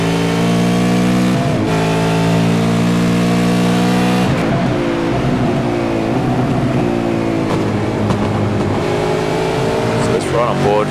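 V8 race cars roar around the Donington circuit, a loud, close onboard engine drone that rises and falls through gear changes, with talk over the top.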